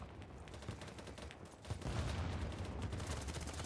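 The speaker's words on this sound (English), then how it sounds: "Oh, there's gunfire coming." Gunfire from the video game BattleBit Remastered, a dense stream of bursts and rattling shots that swells louder partway through and then keeps going.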